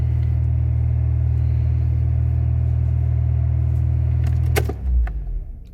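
A Mercedes-Benz W124 engine holds a steady, loud, close droning idle that stays raised without dropping. Near the end a brief clatter sounds and the drone shifts lower and fades.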